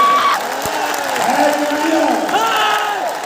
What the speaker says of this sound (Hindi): आप बताइए ताली है कि नहीं